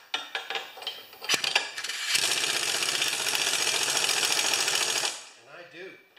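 An old John Deere lawn mower engine being cranked with the spark plug removed, a few sharp clacks and then a loud, steady whirring spin for about three seconds before it stops.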